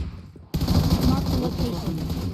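A pump shotgun fires in a video game: after a brief quiet start, a heavy blast opens into sustained dense gunfire and rumbling combat noise, with someone talking over it.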